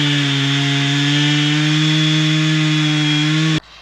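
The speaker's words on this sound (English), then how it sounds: "the number one tool we have used to clear our raw land is the chainsaw" A Husqvarna chainsaw cutting wood drones loudly and steadily at high revs, close by, then cuts off abruptly, leaving a faint residual noise.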